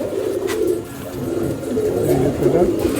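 Madrasi pigeons coo steadily in a loft, a low continuous rolling murmur close by, with people talking over it.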